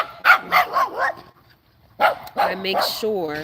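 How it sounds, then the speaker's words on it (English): A neighbor's dog barks in a few quick bursts, then again after a short pause, under a person talking nearby. "that's the neighbor's dog"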